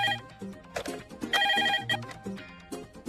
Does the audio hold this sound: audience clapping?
no